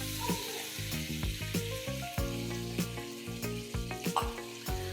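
Mawa being cooked in oil in a pan for dabeli, sizzling and frying steadily throughout with repeated stirring clinks and scrapes of a spoon against the pan, close and continuous.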